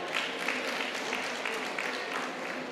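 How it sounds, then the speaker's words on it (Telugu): A rally audience claps in a dense, steady burst of applause that holds evenly throughout, with no pause. "ఒకసారి గట్టి క్లాప్స్ కొడదాం."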